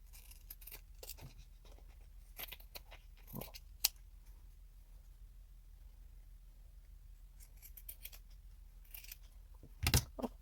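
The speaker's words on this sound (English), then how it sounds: "And I'm going to trim all the edges of the lace right to the edge of this little card." Fabric scissors trim the edges of lace against a small card, producing quiet, close snips in irregular clusters with short pauses between them.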